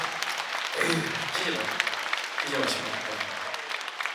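A trot concert audience claps at an outdoor show, with moderate, fairly steady applause mixed with voices throughout.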